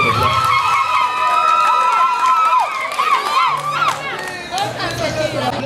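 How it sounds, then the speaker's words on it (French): School Christmas 2019 celebration at a bilingual college in Douala, where a crowd of young people cheers and shouts loudly as a pageant winner is announced, with excited high-pitched yells over a scattered clapping crowd. "on applaudit très très fort"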